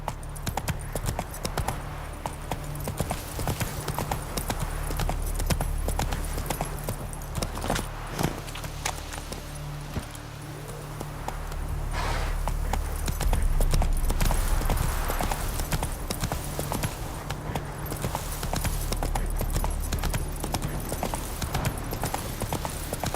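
Hooves of the horse Roach pound in a steady clip-clop gallop through The Witcher 3: Wild Hunt in Velen, loud and continuous for the whole stretch with a low game-ambience drone beneath and no talk.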